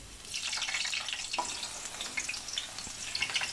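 Butterfly-cut potato fries deep fry in hot oil, giving a steady close hiss and crackle that runs the whole time with a few light clinks, no talk.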